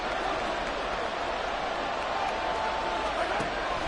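Crowd noise in a Madden football video game, Browns versus Chiefs, rising during a big third-and-one play: a steady, dense stadium roar that stays loud throughout, with a voice speaking over it.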